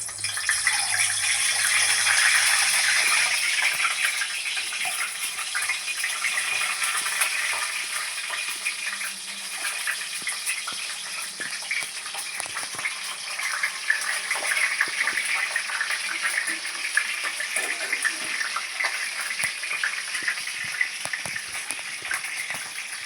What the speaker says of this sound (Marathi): आपण याच्यामध्ये अंडा घालूया, कारण तेल खूपच तापलेलं होतं